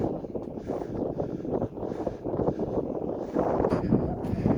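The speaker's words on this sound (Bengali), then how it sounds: "টেন থাউজেন্ড ফিটের উপরে প্রচণ্ড হাওয়া দিচ্ছে" Strong gusting wind on a mountain trek above ten thousand feet buffets the microphone with a continuous, dense low rumble that swells slightly toward the end.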